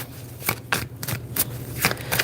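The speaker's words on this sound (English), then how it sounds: "when I stopped shuffling the tarot deck" A tarot card deck is shuffled in repeated crisp riffling bursts, close and fairly loud, coming in irregular rhythmic flurries with brief pauses between them.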